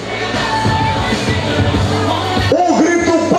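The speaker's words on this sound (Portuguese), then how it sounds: "Muito alto, bem alto, o grito de vocês," Crowd at the Rainha do Abacaxi 2024 pineapple-queen pageant in São Domingos, Maranhão, cheering and yelling loudly under music with a strong steady beat, ending in a burst of whoops and shouts.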